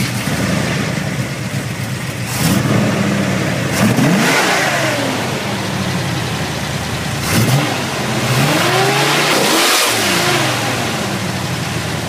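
A restored 1968 Chevrolet Chevelle SS 396 V8 rumbles loudly at close range, with several sharp throttle blips rising and falling over a steady idle and no talking.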